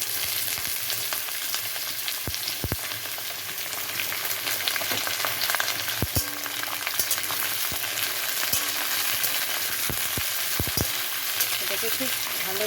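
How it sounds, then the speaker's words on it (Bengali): Brinjal, potato and drumstick fry in a pan with a steady, close sizzle, broken by scattered sharp scraping clicks from stirring. "বেগুন, আলু, এগুলো সব দিয়ে এটাকে ভালো করে ভেজে নিতে হবে।"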